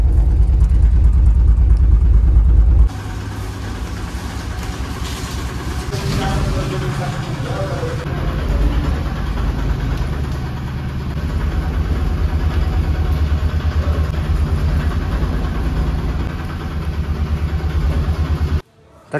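A car engine idles loudly as the vehicle is parked, first a heavy rumble that drops to a steadier hum after a few seconds, with shifting noise and a sudden cut at the end.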